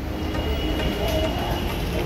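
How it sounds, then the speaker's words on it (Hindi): A Delhi Metro train pulls into Sector 52 station, giving a steady low rumble with a faint high whine as it arrives, heard close and alone for a brief moment. "देखो वो रहा मेट्रो।"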